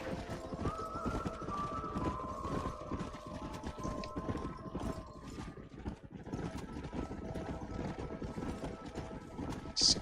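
Horse hooves clip-clop in a steady, fairly quick rhythm in the Xbox game Red Dead Redemption, with a whinny near the start and a sharper noise at the very end, moderately loud throughout.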